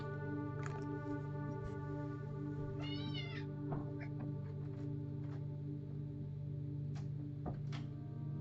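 A pet cat meows a few times in the background, faint and distant, over a steady household hum.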